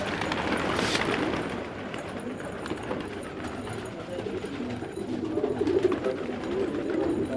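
Shirazi pigeons cooing in a loft, soft repeated low coos close by amid the rustle and murmur of a flock, with a brief burst of wing noise early on.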